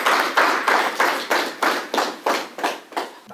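An audience at a dinner event claps in close, rhythmic unison, about ten sharp, even beats in quick succession, loud and near, with no voices.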